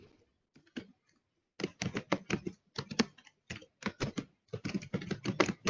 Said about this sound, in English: I'm typing it in the chat box instead of the Q&A box.